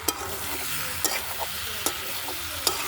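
Shrimp with garden-fresh papaya and taro sizzles steadily in a frying pan, with a spatula scraping and stirring in occasional sharp strokes over the continuous hiss, close and fairly loud.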